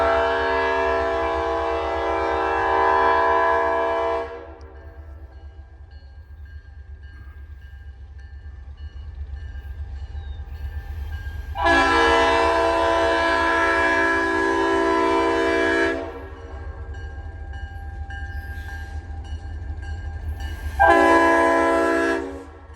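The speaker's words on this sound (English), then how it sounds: "I can hear the locomotives." A Norfolk & Western locomotive rumbles steadily past and sounds its loud horn in three blasts: two long and one short. The close, constant rail rumble runs underneath and no one speaks.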